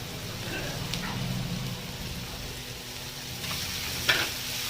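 Turmeric and ginger paste sizzles in a pan with a low, steady frying hiss, broken by a couple of faint clinks and a brief sharp tap near the end.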